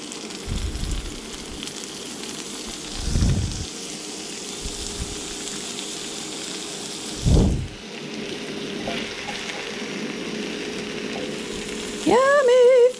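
Butter sizzles steadily in a hot frying pan while breakfast cooks, a continuous crackling hiss with a few louder bumps and scrapes along the way and a brief clatter near the end.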